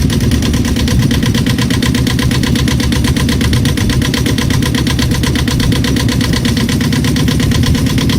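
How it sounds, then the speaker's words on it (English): A fishing boat engine growls in a steady, loud, close throb with an even rhythmic pulse that holds unchanged throughout. "The unmistakable growl of a fishing boat engine."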